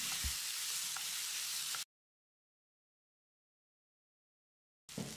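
Three chopped medium tomatoes sauté in a pan with onions, making a soft, steady sizzle that cuts out abruptly partway through and returns briefly at the end, with no talking.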